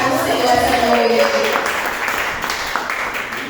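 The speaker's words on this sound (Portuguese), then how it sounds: "Vamos receber o nosso pastor com salva de palmas para o Senhor essa noite" A church congregation at an evening service gives a warm round of applause, a dense wash of clapping that fades slightly toward the end, with voices mixed in.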